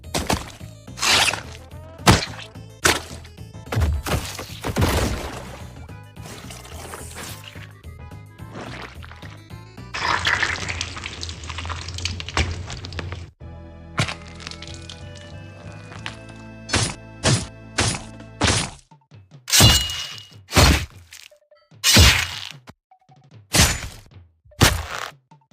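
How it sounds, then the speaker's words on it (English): Squelching, wet squishes and sharp thwacks from cutting up mice, arriving in irregular bursts with liquid drips and chopping hits, some dense stretches and some isolated loud smacks. "That's me cutting up the mice inside the house to eat them."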